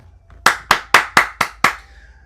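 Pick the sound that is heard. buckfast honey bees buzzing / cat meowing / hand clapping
hand clapping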